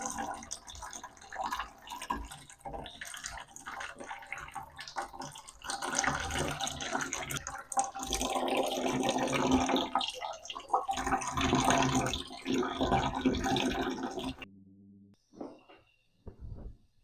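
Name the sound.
water being siphoned during an aquarium water change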